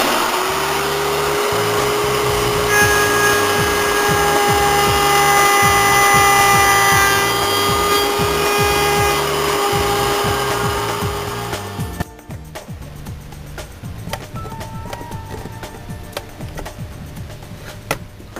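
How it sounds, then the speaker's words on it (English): A router whines loudly and steadily as it cuts a hinge notch in wood, then spins down at about twelve seconds, leaving quieter clatter and handling noise. "To make the notch, I'm using my trusty router."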